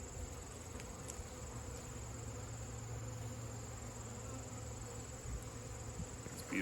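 Honey bees buzz steadily around an opened hive with uncapped honey on the frames, a dense close insect drone holding at even loudness throughout with no talking.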